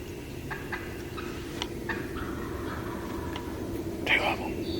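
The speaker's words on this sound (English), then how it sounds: "He's gobbling every breath." Wild turkeys gobbling in quick bursts, several faint distant calls followed by a louder, nearer gobble near the end, over soft outdoor background with a quiet voice present.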